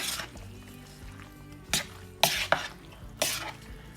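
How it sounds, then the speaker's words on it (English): Chopped cooked chicken tenderloin stirred into a casserole mix, several sharp wet scraping stirs spaced a second or so apart over a quiet background, close and fairly soft. "We're going to add in our cooked chicken."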